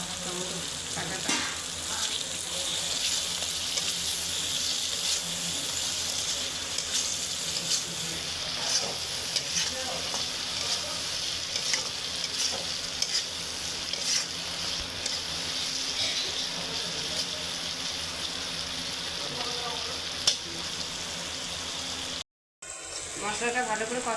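Chopped tomatoes fry in a cooked-down spice paste with oil, giving a loud continuous sizzle and hiss while a spoon scrapes and stirs steadily; the sound cuts out briefly near the end before resuming.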